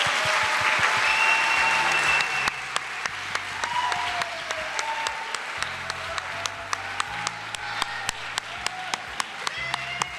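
Applause at a distinguished alumni awards ceremony. A dense burst of crowd clapping gives way to sharper, regularly spaced claps over a low, steady background.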